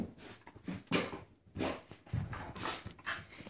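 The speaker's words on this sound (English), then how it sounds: "He is one happy puppy" A dog whimpers and pants in short bursts close by, with soft whining sounds repeating over a few seconds.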